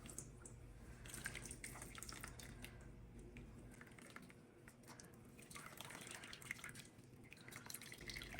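Water from squeezed grated potatoes drips and trickles quietly into a bowl, with soft irregular splashes and brief gushes close by, and no one talking.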